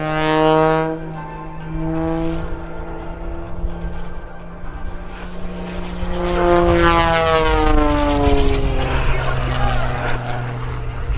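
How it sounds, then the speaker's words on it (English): A high-performance aerobatic biplane performing maneuvers at an airshow in Rhode Island, its engine droning loudly with a rising and falling pitch as it passes, over a persistent background hum. "without question the most high-performance aerobatic biplane in the world today"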